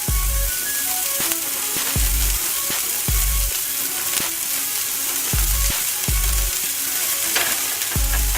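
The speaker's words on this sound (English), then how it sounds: "take 1 bag of the coleslaw and add it to the pan, to the hot oil" A bag of shredded coleslaw frying in hot oil in a pan, steady loud sizzle throughout with repeated low thumps and scrapes of stirring in a regular rhythm.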